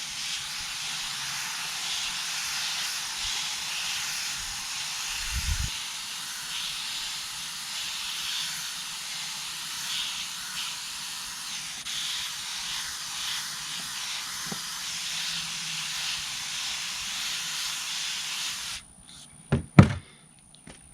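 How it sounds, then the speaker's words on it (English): Water is misted from a spray bottle over freshly sown sandy lettuce in shallow seed trays, a steady soft hiss lasting most of the time, then a few sharp knocks as the trays are handled. "we're going to mist those"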